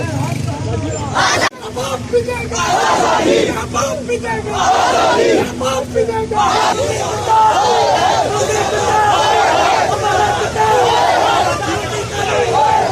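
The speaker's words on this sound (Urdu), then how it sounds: "عوام نے گاڑی کے گرد جمع ہو کر پرجوش انداز میں نعرے لگائے" At a street rally in Kotli, Azad Kashmir, a crowd gathered around a UN vehicle shouts protest slogans in loud, rhythmic, sustained chants, with overlapping voices and general babble throughout.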